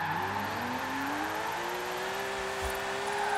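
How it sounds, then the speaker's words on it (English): Game engine note of a Subaru WRX STI fitted with a Porsche engine in Forza Horizon 4, a steady loud drone climbing gradually in pitch as revs rise during a drift run, with no talk over it. "This incredibly torquey Porsche engine is so good."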